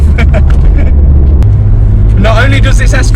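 Ford Escort RS Cosworth engine rumbling steadily from inside the car as it drives, a low continuous drone with a brief rise in pitch near the end, under a voice talking throughout.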